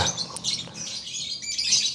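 A lovebird chirps in quick bright bursts, several sharp tweets close to the microphone with a short pause between them, the bird heard alone.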